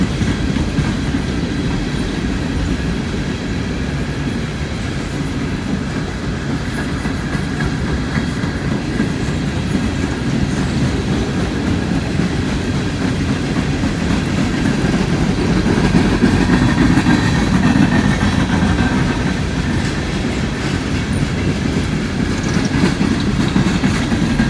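Long freight train with coal hoppers and grain cars rolling past at Thurmond, a loud continuous rumble with steady clickety-clack of wheels over rail joints and faint squeals, no voices.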